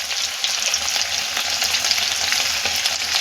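Crispy chilli chicken pieces fry in hot oil in an iron wok over a high gas flame, giving a steady, close, loud sizzle with faint stirring and no voices.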